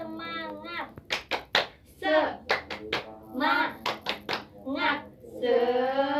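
A group claps a rhythmic cheer, sharp claps in a set pattern alternating with voices chanting along.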